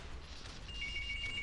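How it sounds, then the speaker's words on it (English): A phone begins ringing partway through, a thin steady electronic ring over a low background hum during a casual Tekken gaming session, with no talk. "And that's the phone"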